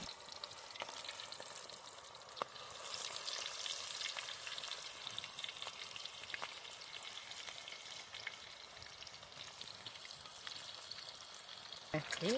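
Kaddi kabab frying in hot oil, with a steady soft sizzle and crackle running throughout at low level, plus light stirring clinks and voices chatting in the background.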